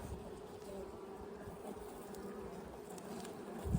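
A honey bee colony buzzes on hive frames during an assessment ten days after queen release from a shaken package in British Columbia. The hum is close, dense and steady throughout, with no talk.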